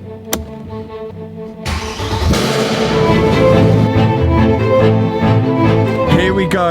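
A Mercedes C63, back on the road after a crash, cranks and fires up inside a workshop. A loud, steady engine roar follows, with the revs building as it pulls away.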